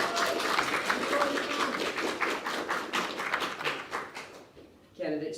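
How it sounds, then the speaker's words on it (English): Audience applause for a candidate at a Florida Atlantic University student government debate: steady, dense clapping across the room that fades out near the end before a voice begins speaking. "So please give a round of applause for"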